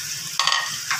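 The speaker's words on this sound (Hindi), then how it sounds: "अब हम इसके अंदर जो हमने शलजम उबाल के उनको मैश करके रखा था वो शामिल करके मसाले को बहुत अच्छे तरीके से भूनेंगे।" Masala fries with mashed boiled turnip, potatoes and peas in a pan, a soft sizzle topped by two brief bursts of stirring and scraping, close, with no speech.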